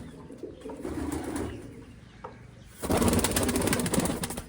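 Pigeons coo softly in low murmuring calls, then a louder rustling burst, like fluttering wings, takes over near the end.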